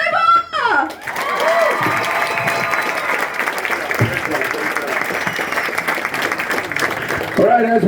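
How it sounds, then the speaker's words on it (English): A crowd gives sustained, loud applause and cheering at the grand opening of new little league softball and baseball fields in Ingram, Texas. The clapping fills most of the clip, with voices briefly at the start and end. "one more round of applause for the Astros Rangers Community Foundation and San Antonio Mission"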